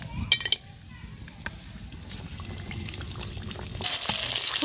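Store-bought fuchka puris frying in very hot oil, a dense bubbling crackle that grows louder toward the end, with voices chattering faintly in the background.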